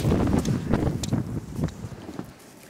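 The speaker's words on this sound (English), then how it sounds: "Oh, that wind is cold." Cold wind blowing hard during a blizzard, gusting noisily and buffeting the microphone, with rough rumbling bursts that ease off toward the end.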